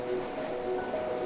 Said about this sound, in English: The waves are wild and the cliffs stand tall